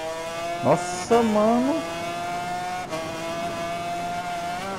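Ride 4 video game engine sound of a 2017 500 MMX motorcycle at full throttle, a steady high-pitched rising whine held near and loud, with brief gear-shift dips and someone talking excitedly over it at first.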